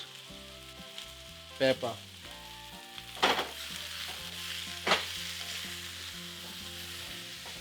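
Portabella mushrooms sauté in a pan with a steady sizzle and several sharp stirring clatters; a voice briefly speaks, and faint music plays underneath.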